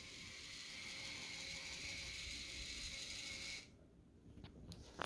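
An electric linear actuator motor whirs steadily while closing, a continuous mechanical drone that abruptly cuts off near the end, followed by a few faint clicks and taps.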